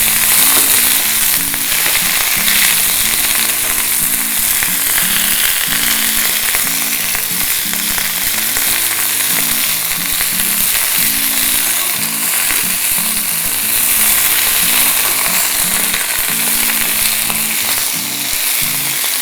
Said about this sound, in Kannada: ಇದರ ಹಸಿ ವಾಸನೆ ಸಂಪೂರ್ಣ ಹೋಗೋ ಹಾಗೆ ಫ್ರೈ ಮಾಡ್ಕೊಳ್ಬೇಕು